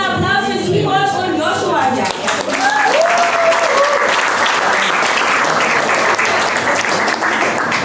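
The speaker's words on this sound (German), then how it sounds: "So, jetzt erstmal ein großer Applaus" Loud, dense applause from a crowd at a Ben & Jerry's scoop shop opening in Berlin, sustained and unbroken throughout, with cheering voices briefly audible near the start.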